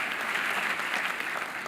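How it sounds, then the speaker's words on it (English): An audience applauds conference panelists at a leadership plenary session, a steady, dense wash of many hands clapping, even in level throughout with no voices on top. "Can we give a round of applause to our panelists"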